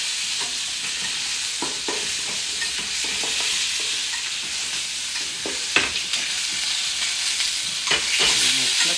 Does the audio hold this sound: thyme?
yes